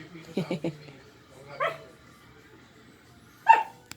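A pet dog at home gives three quick yips, then two separate single barks a moment apart, fairly close and moderately loud in a quiet room.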